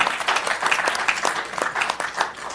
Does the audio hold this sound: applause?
yes